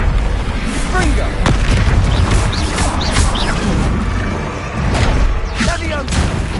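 Confringo fire spell explosions in the video game Hogwarts Legacy, loud booming blasts and crashes in a chaotic battle with a mix of voices shouting over them.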